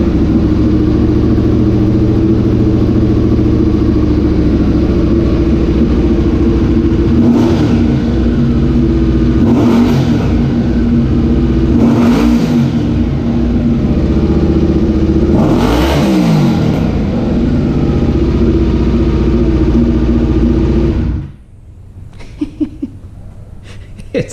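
A motorcycle engine, with the idle set a little high, runs loud and close, with repeated revs swelling over a steady rumble before it cuts off abruptly near the end, leaving a few faint clicks.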